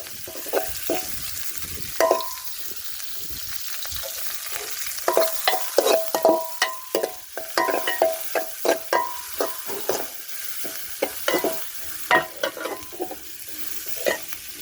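Garlic, onion and curry leaves sizzle in hot oil in a pan while being stirred for a soya curry, with a steady frying hiss broken by repeated close scraping stirs.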